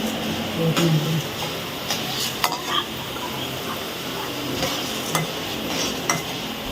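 Garlic frying in a pan for gongura podi, a steady broadband sizzle with occasional stirring scrapes and clinks, close and continuous throughout.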